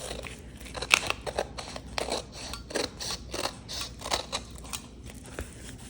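Repeated crisp snips of scissors cutting paper, a quick irregular series of sharp close strokes with no voices.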